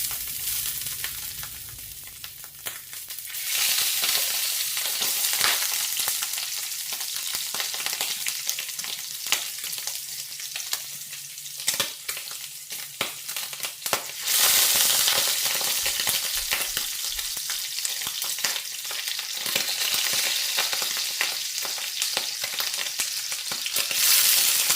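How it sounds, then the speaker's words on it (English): Brats sizzle steadily in a skillet with a tablespoon of hot olive oil, a dense crackling hiss that runs close and loud throughout, swelling brighter partway through, with occasional stirring scrapes and no talk. "I got a skillet here with about a tablespoon of olive oil heating up"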